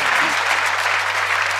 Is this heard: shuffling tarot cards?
no